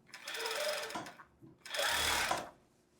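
A sewing machine stitches a long casual skirt in two close, loud bursts of rapid needle chatter separated by a short pause.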